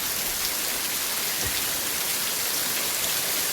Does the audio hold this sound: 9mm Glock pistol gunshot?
no